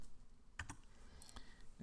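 A few quiet, scattered keystrokes clack on a computer keyboard, sparse and irregular against a faint background hiss.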